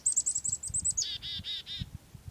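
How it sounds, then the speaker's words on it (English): Black-capped chickadee giving its winter call outdoors: a rapid run of high, clear chips followed by several buzzy lower notes, near and fairly loud over a soft low rumble of background noise. "Chickadee-dee-dee-dee-dee-dee. They have their winter song now"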